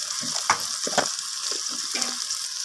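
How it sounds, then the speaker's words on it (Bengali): Turmeric and red chilli powder for an egg curry fry in a pan, a close, steady sizzle broken by a few scraping stirs and light clinks, with no voices. "মশলাগুলোকে ভালোভাবে এইভাবে কষিয়ে নিতে হবে"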